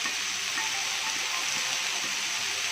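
Turmeric and other spices hitting hot oil in a pan, producing a steady, loud, continuous sizzle with no pauses and no talking.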